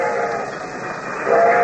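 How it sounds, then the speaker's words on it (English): Approaching train as a radio drama sound effect, with a sustained whistle-like tone over a rumbling rail drone that swells slightly louder near the end. "The train was coming closer. I could hear its bell."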